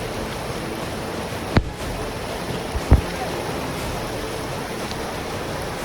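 A small waterfall at Lulung near Baripada, Odisha, swollen by monsoon rain, gives a steady close-up rushing roar of falling water, with two brief knocks near the microphone partway through.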